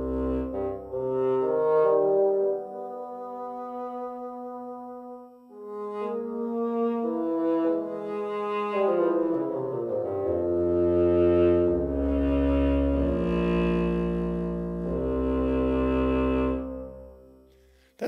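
A sampled solo bassoon patch from Auddict Master Solo Woodwinds, shaped with EQ and reverb, plays a slow, deep melodic line of sustained reedy notes in two phrases, with a soft reverberant tail.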